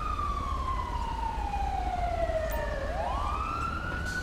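An ambulance siren in the video game GTA 5 wails steadily, its pitch sliding slowly down and then sweeping back up, over a constant rumble of traffic noise.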